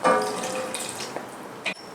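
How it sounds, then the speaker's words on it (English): Water pours from a container into a pot of homemade bolognese sauce with tomatoes and thyme, a brief close splashing gush that trails off within two seconds. "Add the water,"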